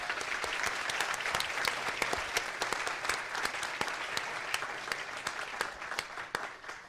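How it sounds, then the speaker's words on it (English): Audience applause at a high school debate championship, sustained, dense clapping from a sizeable crowd that holds steady and then tapers slightly near the end, with no speech over it. "Can we give them, please, a round of applause?"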